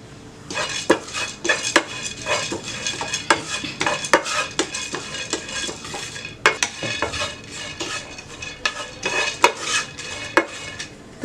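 Pumpkin and watermelon seeds roast on low heat in a pan while a spoon stirs them steadily, producing continuous rattling, scraping and clinking with a soft sizzle underneath, with no talking.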